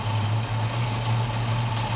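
A 1956 Chevy pickup engine idles smoothly and steadily, a low, even hum with no change in rhythm, close and alone without any voices.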